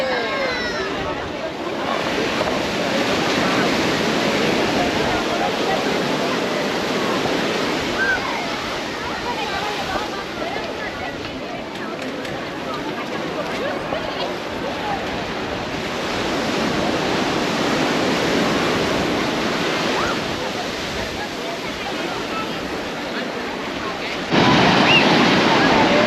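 Ocean surf rolling onto a beach in Rio, a steady broad wash of breaking waves with wind buffeting the microphone, continuous throughout at a fairly loud level.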